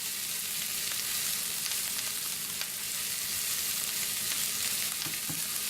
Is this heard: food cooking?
yes